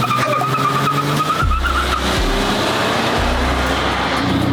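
A supercar's engine revs hard in sharp bursts, loud and close, with downward pitch drops between blips and a tire squeal or skid mixed in near the start, all with no talking.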